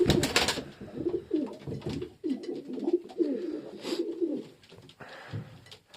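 Homing pigeons coo in a loft, with repeated low throaty calls overlapping close by and a burst of wing flutter or rustling near the start.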